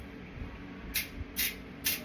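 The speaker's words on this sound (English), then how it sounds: "I'm going to lightly spray each cupcake liner" Three short hissing sprays of cooking spray onto cupcake liners, evenly spaced about half a second apart, from a nearby aerosol can over a quiet room.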